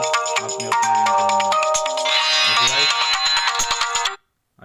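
An Oppo Reno 3 Pro smartphone plays a melodic ringtone, loud and close, with bright repeating electronic notes that stop abruptly near the end, with no voices.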